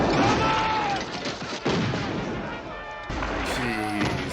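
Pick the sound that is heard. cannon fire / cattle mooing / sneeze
cannon fire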